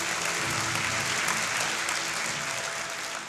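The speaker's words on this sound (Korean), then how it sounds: "큰 박수로 환영해 주시기 바랍니다." An audience at a university's 25th anniversary ceremony, POSTECH, applauds warmly in steady, sustained clapping that fades slightly at the end.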